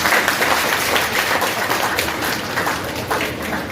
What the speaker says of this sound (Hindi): तालियां बजा दिया करो।